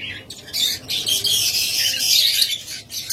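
Cockatiels and lovebirds kept as pet breeding pairs give loud, dense squawks and shrill chirps that overlap continuously, close by, with a faint voice in the background.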